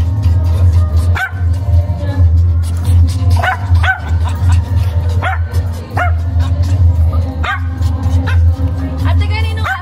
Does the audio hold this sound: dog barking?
yes